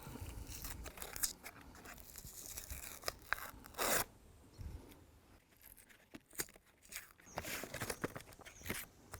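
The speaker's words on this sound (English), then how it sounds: "Snapping the plasterboard away, but keeping the paper intact." Plasterboard being snapped and its gypsum core peeled away from the facing paper while patching a wall, giving close, quiet crunching, tearing and crackling bursts in an irregular run, with no talk.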